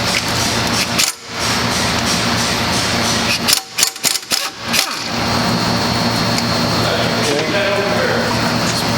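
An impact gun with half-inch sockets works against a stubborn bolt on a Toyota 4Runner, sending loud, rough, sustained hammering with a few brief stops between bursts.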